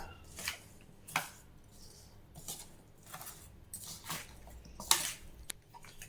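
Mango pickle ingredients being stirred together in a bowl, giving soft scattered clinks, scrapes and wet squelches at an irregular pace, close and fairly quiet.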